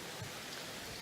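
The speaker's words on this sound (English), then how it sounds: "It's raining outside. I have the windows open." Steady rain falling outside, coming in through open windows as an even, soft hiss of many drops, fairly quiet and continuous with no talking.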